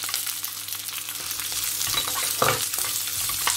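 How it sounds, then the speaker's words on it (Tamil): Chopped onions fry in a pan of oil with green and dried chilies for a carrot sundal, giving a steady, close sizzle with light crackles throughout and no voices. "வெங்காயம் நன்றாக பொரிந்து வரட்டும்"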